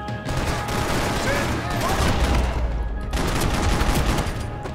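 Rapid bursts of automatic gunfire in the video game Max Payne 3, dense and loud across the whole stretch, with a brief pause midway and a voice partly buried under the shots.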